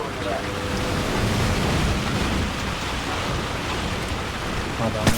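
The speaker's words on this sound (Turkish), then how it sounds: "Sağnak yağmurdan hiçbir şey görünmüyor zaten." Dense, steady roar of a heavy rain downpour in the shooter game Call of Duty 4: Modern Warfare, loud and continuous throughout with no break.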